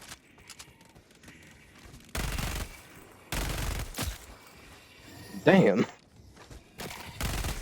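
A submachine gun firing at a very fast rate in a video game, heard as several loud, dense bursts of rapid automatic fire separated by short pauses, with a brief spoken exclamation between them.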